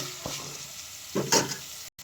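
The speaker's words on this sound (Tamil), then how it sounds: "தக்காளியை கொஞ்சம் நல்லா வதக்கி விடணும்" Soft sizzling of tomatoes sautéing in a pan, with a couple of brief stirring scrapes; quiet and close, no talking.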